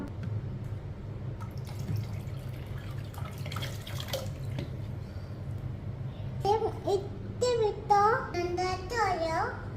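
Water poured slowly from a cup trickles and drips softly in the background, while a child and an adult talk over it in the later part.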